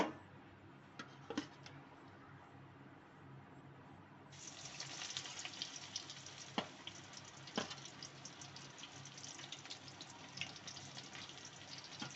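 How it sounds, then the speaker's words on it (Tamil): Soaked soya chunks (meal maker) for soya 65 drop into hot oil, a quiet background hiss that suddenly jumps to a loud, steady crackling sizzle partway through, with a few sharp pops and clinks over it. "சோயா நல்லா ஊறிடுச்சு. இப்போ நம்ம எண்ணெயில் பொரிக்க போகிறோம்."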